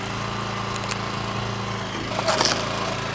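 A small engine on a wood log splitter idles with a steady, close, low droning hum, and a brief louder mechanical clatter rises near the end.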